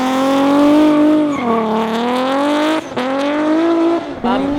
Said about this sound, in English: the 350Z's running a VQ35, which we've also supercharged